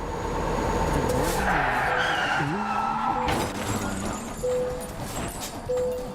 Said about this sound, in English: Gary applied the brakes.